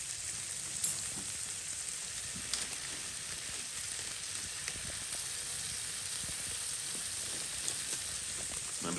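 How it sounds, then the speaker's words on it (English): Seasoned shrimp fry in a pan on a backcountry wood stove at Lake O'Hara, giving a soft, steady sizzle and hiss with a few faint clicks, and no voices. "I'm just going to give it a little bit of a toss and then pull these off."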